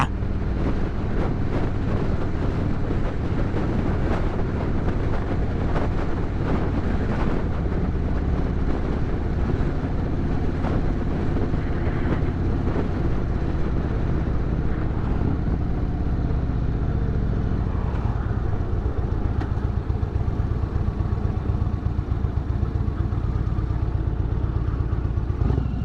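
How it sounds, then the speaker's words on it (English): Motorcycle with a Thunderstroke engine riding along a mountain highway, a steady loud engine drone mixed with heavy wind rush over the microphone, continuous and unbroken throughout. "Thunderstroke engine."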